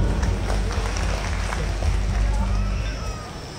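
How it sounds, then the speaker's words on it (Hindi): Audience applause at a night film festival event in Khajuraho, a dense, continuous wash of clapping and crowd noise at moderate distance that fades slightly at the end. "उनके लिए एक बार जोरदार तालियां।"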